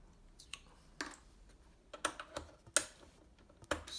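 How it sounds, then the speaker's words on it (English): Keycaps pulled off a Kinesis Advantage 2 keyboard, producing a handful of sharp plastic clicks and snaps at irregular intervals, close and quiet against near silence. "just use another angle to pull off the keycaps"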